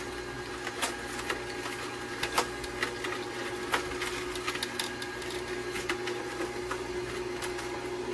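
A Canoly C16 cold press juicer juicing unpeeled carrots gives a steady mechanical whir, with a constant motor drone and repeated small clicks and crunches close by, no voices.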